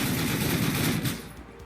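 A rapid burst of automatic gunfire from a weapon in the zombie survival game Dead Matter, loud and dense for about a second before cutting off into a fading tail.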